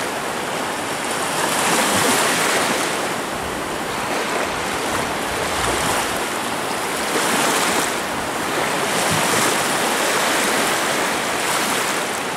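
Surf washing onto a sandy beach on the Gulf of Riga, a steady broadband roar of breaking waves with gentle swells in intensity, continuous and fairly loud, with wind and no voices.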